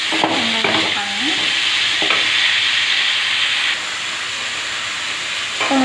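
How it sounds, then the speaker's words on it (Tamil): Onions sautéing in a pan until golden brown give a steady, loud close sizzle, broken by a few scraping stirs near the start and a brief clatter near the end, with no talking. "நல்லா கோல்டன் ப்ரௌன் கலரில் வதங்கி வரணும். வெங்காயம் இருக்காங்க."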